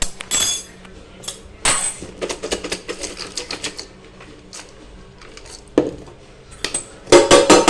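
A spoon clinks and scrapes against a bowl as wafer and kurkure bhel is stirred together, irregular bursts of clatter with quiet gaps between and a dense flurry of scraping near the end.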